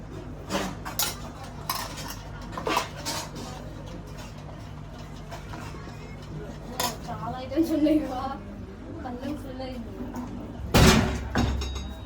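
A plate is set down among clinking dishes and cutlery in a home kitchen, with a few sharp knocks and a louder clatter near the end, while people talk in the background.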